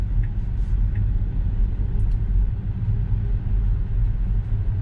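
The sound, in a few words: Tesla car driving through Chicago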